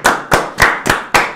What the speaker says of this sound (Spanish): recibamos con un fuerte aplauso del bloque ruso a Samuel Kilo.